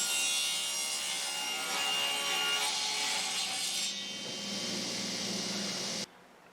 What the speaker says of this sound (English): we're going to start by making a crosscut here at 30 inches